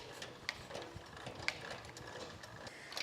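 Boat trailer jack with a footplate is cranked down, a faint steady mechanical whir with light ratcheting clicks and occasional ticks, quiet and close.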